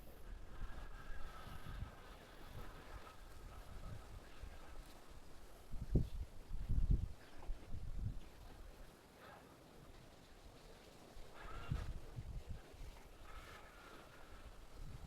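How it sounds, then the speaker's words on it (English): Strong wind blows across an outdoor rocky spot, buffeting the microphone with low rumbling gusts that swell and fade, the heaviest bursts coming midway and again near the end. "it is so windy out today, and it is very windy in this spot here"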